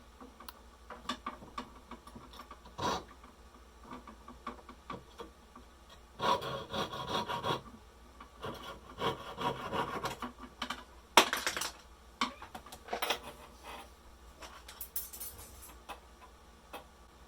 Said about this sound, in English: use your jeweler saw frame to move up and down and saw through the whole piece of wire